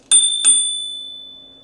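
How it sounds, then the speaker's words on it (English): The handlebar bell on a VMAX VX4 electric scooter gives two quick metallic dings close up, the bright ring then fading away slowly in quiet. "Just above that, we have our bell, which sounds like this."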